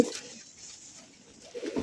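A male Chila pigeon coos during courtship, with a soft, low, throaty coo at the start and another near the end of a short, quiet stretch, heard up close and with no talking.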